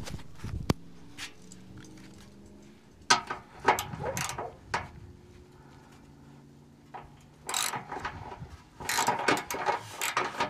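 A ratchet loosening 12mm bolts on a Gen 1 Toyota Sequoia during an oil change, with bursts of close clicking ratchet strokes separated by quieter pauses.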